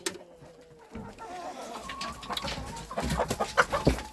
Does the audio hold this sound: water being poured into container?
no